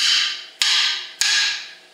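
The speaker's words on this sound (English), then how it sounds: "you might have to hit with a big hammer give it a hit" Big hammer striking a seized brake drum on the hub: two loud, sharp metallic blows about half a second apart, each ringing out and decaying.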